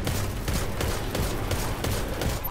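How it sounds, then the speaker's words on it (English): Enemy gunfire in the video game Destiny 2 during a Nightfall mission, rapid overlapping shots and bursts crackling continuously at moderate volume with no talking. "Look at everybody shooting at me there."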